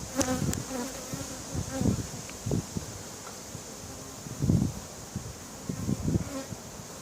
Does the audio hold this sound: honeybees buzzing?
yes